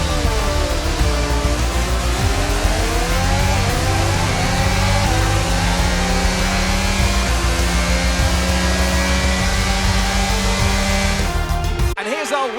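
Ferrari Formula 1 car engine in F1 22 at the Belgian Grand Prix: a loud, steady, high-revving drone whose pitch slides up and down through gear changes, cutting off abruptly at the end.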